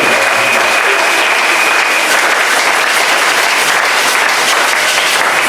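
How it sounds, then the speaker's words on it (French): A church congregation applauds during a sermon: dense, steady clapping from many hands fills the room at full volume throughout, with no voices rising above it. "Applaudissez pour le Seigneur"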